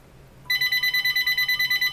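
An indoor telephone begins ringing after a quiet moment, a bright electronic trill pulsing in quick, even bursts, loud and close, with no voice over it.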